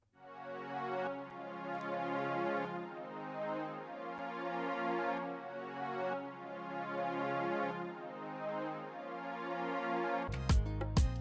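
Sustained Purity synth strings play chords in a beat, a smooth layered pad that runs steadily for several seconds before a louder burst of other sound cuts in at the end.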